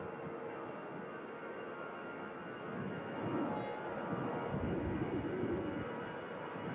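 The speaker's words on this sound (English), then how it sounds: "Lufthansa out to Munich." A Lufthansa airliner departs Manchester Airport bound for Munich, its engines giving a steady, distant broadband roar that swells slightly midway and holds, with no talk over it.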